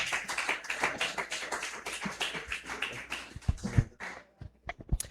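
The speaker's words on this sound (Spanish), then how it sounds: "Vamos a recibirlo con un aplauso al siervo del Señor" Church congregation at a family retreat clapping in welcome for a visiting pastor, a dense wash of hands for about four seconds that thins into scattered taps and a few louder bumps as it dies away.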